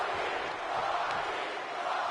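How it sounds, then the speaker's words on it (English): An arena crowd in Orlando, Florida, in the WWE 2K25 video game chants for The Rock, a dense, steady roar of many voices holding at a constant level without a break. "The crowd chant for The Rock here in Orlando, Florida."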